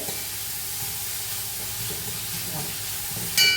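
Salted onions are stirred quickly in a frying pan, a steady soft hiss and sizzle with light scraping throughout, ending in a brief clatter.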